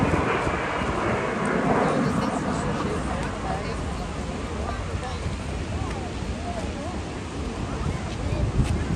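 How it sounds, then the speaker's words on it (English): A Norwegian de Havilland Vampire jet, its engine mounted in a pod behind the pilot, flies at the 2024 Portrush air show, a loud, sustained roar that swells early and then lingers under a talking voice. "why the aircraft is designed the way it is, with the engine mounted in a pod immediately behind the pilot"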